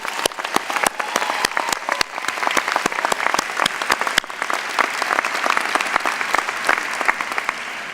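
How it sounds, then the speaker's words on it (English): A commencement crowd at a 2014 school of business ceremony applauds the faculty, with sustained dense clapping and sharp individual claps standing out, loud and continuous with no talk. "Please join me in a round of applause to all of our faculty for making this day possible."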